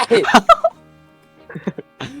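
Chickens cluck and squawk in a few short, close, loud bursts with quiet gaps between them, heard alone without talk.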